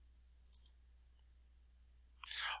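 Two quick, crisp mouse clicks close together, near and fairly faint, followed a second and a half later by a brief burst of brighter clicking and rustling.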